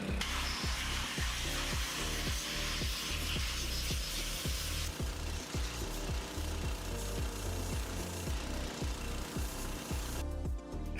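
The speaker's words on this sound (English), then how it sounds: "I had to blast the rest off with a powerful pressure sprayer" A powerful pressure sprayer blasts casting shell off freshly cast metal bolt castings, giving a continuous rough hiss with rapid rhythmic pulses, fairly close and steady throughout.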